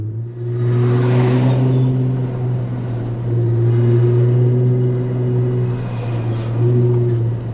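Heavy engine rumble from truck traffic on a crowded road in India, a loud steady droning low hum heard from inside a vehicle, with no talking.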